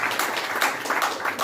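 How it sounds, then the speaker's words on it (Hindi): Audience applause at a 64th birthday celebration event in India, a brief burst of steady clapping from a crowd, moderately loud and continuous with no speech. "एक बार जोरदार ताली बजाएं"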